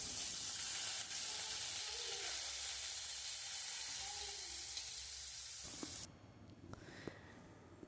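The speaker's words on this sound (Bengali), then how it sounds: "এবার তেলটা গরম হলে আমি মাছগুলোকে ছেড়ে দেবো।" Fish fry in hot refined oil in a kadai, a loud, dense close sizzle and hiss that holds for about six seconds before dropping to a quieter crackle with a few sharp pops.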